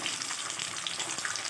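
A short, soft burst of frying: tilapia hissing gently in a kadai, an even low sizzle with faint bubbling, heard alone.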